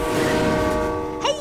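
A cartoon train horn sounds in a kids' animated show. One sustained, loud, tonal honk with rich harmonics lasts about a second, followed by a brief bright chirping flourish.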